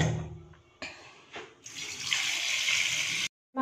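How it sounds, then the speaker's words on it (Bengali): Raw chicken meat rinsed under a running kitchen tap, water splashing and gurgling in irregular bursts that swell into a steady close stream, then a sudden stop before it resumes, no speech. "এবার মাংসগুলোকে আমি ধুয়ে নেব।"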